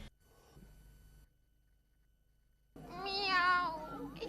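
An animated cartoon cat gives one long, drawn-out meow, loud and close, after a brief quiet pause and some faint background hum.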